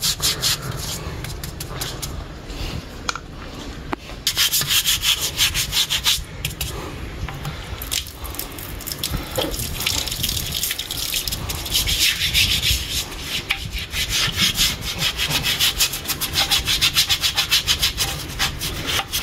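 A brush scrubs something during cleaning under cold water while preserving bluefin tuna with truffle, making close, rhythmic rasping strokes that repeat steadily for about twenty seconds with short pauses.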